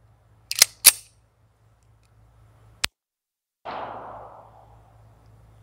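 A Beretta 92FS pistol fired over a chronograph: a pair of sharp cracks close together, a lone crack a couple of seconds later, then a broader report that rings and fades out. All are heard against near-silence.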